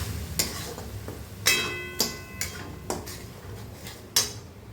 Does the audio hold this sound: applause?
no